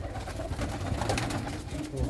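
Pigeons coo softly and repeatedly at a keeper's loft where a red-eyed white hen pigeon is shown, the low murmuring steady throughout amid light background noise.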